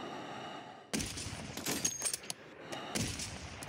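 Gunfire in a video game: a sudden sharp shot followed by scattered crackling bursts, then another loud volley near the end, fairly close and punchy.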